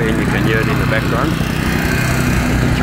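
The hydraulic power unit of a Jaws of Life rescue tool drones steadily and loudly while crews extricate a trapped truck driver, with voices talking over the constant engine noise.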